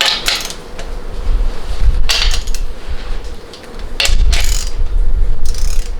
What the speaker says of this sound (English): Just get all the bolts tightened to the point where they're ready for that final torquing.